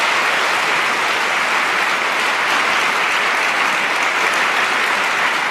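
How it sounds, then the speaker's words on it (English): Sustained audience applause at a live political talk broadcast, a dense, steady wash of many hands clapping close and loud throughout, with no talk over it. "So they want to applaud because they know that catchphrase"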